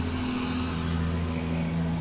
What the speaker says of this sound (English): Oh, they're making these trucks sound so realistic.